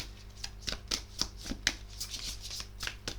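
Tarot cards being shuffled by hand, a quick string of crisp riffling snaps and soft slaps at a steady rhythm, close and fairly quiet, with no voices.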